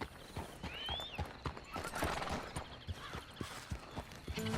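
Horse hoofbeats clip-clop in a steady trotting rhythm while riding in the video game Red Dead Online, close and clear, with a brief whinny near the start and faint background ambience.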